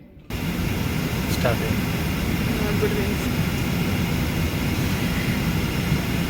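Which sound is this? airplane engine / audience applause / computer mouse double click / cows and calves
airplane engine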